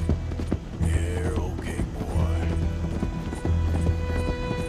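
Horse galloping in Red Dead Redemption 2, a steady run of hoofbeats with repeated clip-clop rhythm over low rumbling game ambience, fairly loud and close, with brief whoosh-like sweeps.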